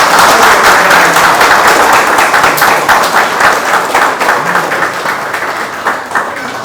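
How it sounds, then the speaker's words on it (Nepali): A church congregation claps in thanks, loud rhythmic clapping close by that keeps a steady beat and slowly eases off, with no talk on top. "ताली बजाएर यीशुलाई धन्यवाद दिनु।"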